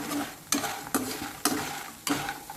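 Sun-dried lentil dumplings (vadiyalu) fry in hot oil in a pan with a steady broadband sizzle, broken by four sharp stirring scrapes spaced about half a second apart, close and moderately loud, with no voices.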